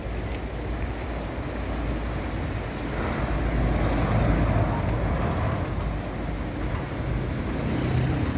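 Road traffic passing near a canal in the Pennine hills, a continuous broad roar that swells slightly as vehicles go by, with no talk.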